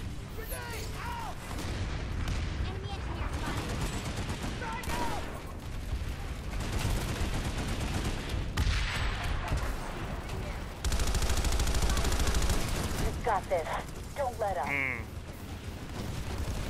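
Shotgun fire mixed with dense battle gunfire in the online shooter game PlanetSide 2, loud and continuous, with blasts and explosions layered over a busy game soundscape and some speech.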